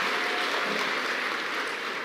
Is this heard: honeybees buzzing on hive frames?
no